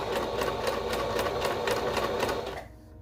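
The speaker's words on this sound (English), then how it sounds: "now when I start pushing the presser foot down, I'm just going to keep" A sewing machine runs steadily with the presser foot lowered, stitching fabric as a romper is sewn. A continuous close whir with a fast needle rhythm stops abruptly near the end.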